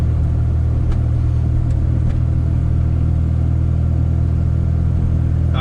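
K24-swapped Integra with an Action Stage 4 clutch cruising on the road, its engine a steady, continuous low drone heard from inside the car, with no talk.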